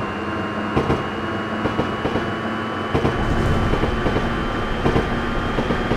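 A 201 series electric commuter train on the Chuo Line in the video game Densha de GO! 3 hums and whines as it pulls away, with rhythmic clunks of wheels over rail joints and a steady motor tone.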